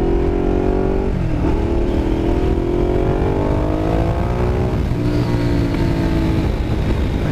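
A Ducati Diavel motorcycle with a changed sprocket accelerates hard and continuously, its loud engine note climbing steadily through the gears with brief dips at each shift, close and alone without talk.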